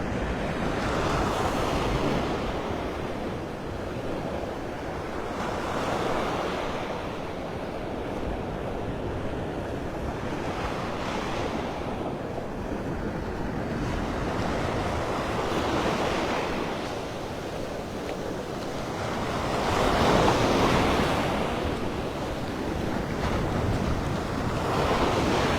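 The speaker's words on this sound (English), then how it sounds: "Playa, the beach." Ocean surf rolls onto Vanderbilt Beach in Naples, Florida, in steady broadband washes that swell and recede every few seconds, with a louder breaker near twenty seconds and constant wind buffeting the microphone throughout; no one speaks.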